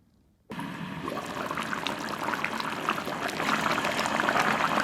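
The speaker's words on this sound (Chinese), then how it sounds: "小火给它炖上半个小时。" Chicken pieces and potatoes simmer on low heat in a covered pot with a little water, angelica root and galangal for braised chicken. After a brief silent moment, close, steady bubbling and sizzling begins and grows slightly louder, with no talking.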